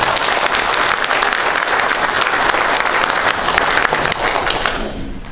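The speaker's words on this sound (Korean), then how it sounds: "다시 한번 큰 박수 보내주시면 감사합니다" Loud, steady applause from a forum audience at an international diplomacy and security forum in Dangjin, honoring a lawmaker; it holds evenly and then tapers off in the final second.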